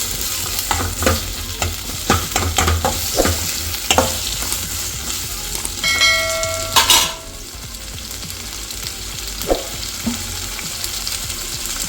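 Green tomatoes, chillies and garlic frying in a pan for chutney, a loud continuous sizzle broken by repeated spatula scrapes and stirs, with one brief harsh scrape partway through.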